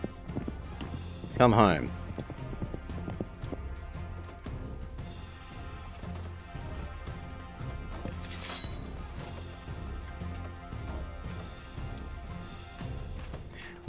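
Horses in the video game Citadelum clip-clop in a steady, fairly close hoof rhythm, with a short burst of a whinny near the start and a voice talking over them.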